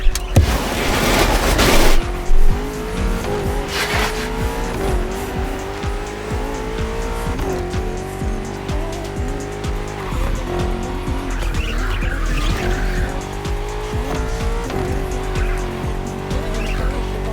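BMW M CS cars racing in The Crew Motorfest, their engines roaring loud and steady with repeated tire squeals and skids over the whole stretch, with no talking.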